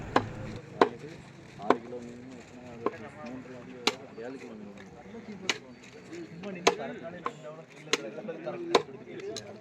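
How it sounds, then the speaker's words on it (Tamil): A heavy blade chops a large fish head from a 12 kg fish into pieces at a Kanyakumari fish market, about ten sharp, evenly spaced thwacks roughly a second apart, with market background noise between strikes. "இந்த தலையை இப்போ கடைசியில் துண்டு துண்டாக்க போகிறவ எப்படி கட் பண்ணுறான்னு பார்ப்போம்"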